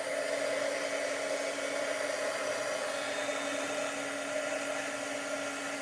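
A heat gun runs in a constant, steady whir while melting embossing powder, its fan drone and a faint tonal hum continuing evenly with no pauses.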